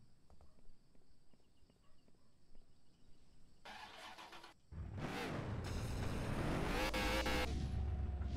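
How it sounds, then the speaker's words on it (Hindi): In a car dealership video game, a modified car's engine starts quietly after some faint clicking, then revs loud and steady with rising and falling pitch in the last half. "गाड़ी की आवाज़ अलग लेवल की है बे।"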